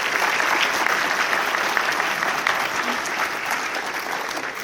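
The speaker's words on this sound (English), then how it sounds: "Let's give everybody a round of applause" Crowd at a regional women's leadership event gives sustained applause, dense even clapping from many people that holds steady and eases slightly over its few seconds.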